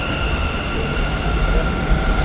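Low rumble and steady hum of a train at platform 2 of KSR Railway Station in Bengaluru, with faint tonal whine and indistinct background voices around it.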